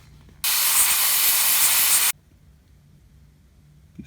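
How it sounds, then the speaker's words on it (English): A single loud blast of compressed air, about one and a half seconds of close hiss, blowing out a car's distributor cap after the car would not start following damp weather. "I'm going to take and blow that out with some air"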